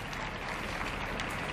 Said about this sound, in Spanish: Y el aplauso del público por realizar el salto.